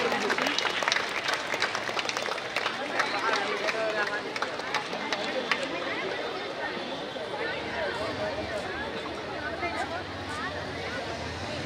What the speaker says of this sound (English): Goswami and Ansh Badani, please put your hands together and give them a resounding applause for all their hard work, their stamina and their wholehearted play.